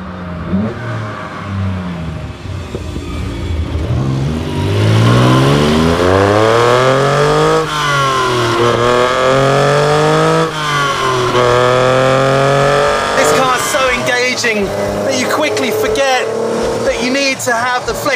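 Lancia Stratos HF Stradale from 1974 with its Dino 2.4 litre V6 revs through rising and falling sweeps, loud and close, with a narrator talking over much of it.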